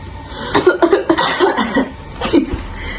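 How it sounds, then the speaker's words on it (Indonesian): A burst of several rough, close coughs in quick succession, loud and breathy, followed by a pause and one last cough. "Batuk."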